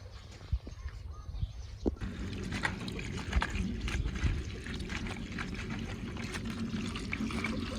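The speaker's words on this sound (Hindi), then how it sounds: "पानी चल रहा था हमारा पैप, तो मैंने कहा पीने वाला पानी भी भर लेते हैं।" Water from a pump runs steadily while drinking water is filled outdoors in a village, a continuous splashing flow that starts after a couple of soft knocks and keeps going at moderate loudness.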